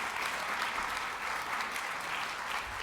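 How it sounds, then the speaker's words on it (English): Sustained applause from a seated audience at a literary event at the Schomburg Center, honoring a dance company: a steady, even wash of many hands clapping, fairly close and unbroken, with no talking. "Let's give another round of applause for the Harambee Dance Company."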